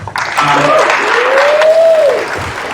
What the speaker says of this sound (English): another round of applause.